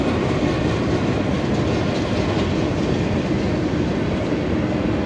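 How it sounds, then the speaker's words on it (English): A freight train on Route 66 rumbles past continuously at close range, a loud, steady roar with faint clickety-clack of wheels on the rails. "And the train is still going."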